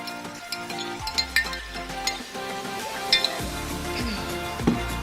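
A sausage and vegetable kebab mixture sizzles steadily in a pan, with clinks and scrapes of a utensil stirring against the metal over the constant frying hiss.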